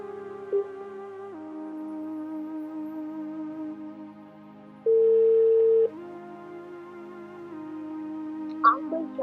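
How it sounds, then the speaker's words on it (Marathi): Mobile phone busy tone on an unanswered call, a steady tone that breaks into one loud sustained beep partway through, with faint background hum and no talk. "आपण ज्या मोबाईल नंबरवर संपर्क करू इच्छिता तो सध्या व्यस्त आहे."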